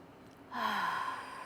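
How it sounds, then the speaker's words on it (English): A group in West Asheville, North Carolina draws one long, breathy inhale together. It starts abruptly partway through and holds steadily to the end, soft but clear at close range. "we are going to take a deep breath together. Okay, everybody exhale. Okay, inhale."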